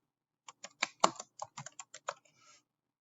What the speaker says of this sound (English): type your name in this box up here